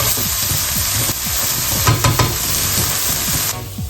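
Minced meat and vegetables frying in a pan for a stuffed pumpkin, a dense, steady sizzle with a few stirring scrapes, close and continuous without talk.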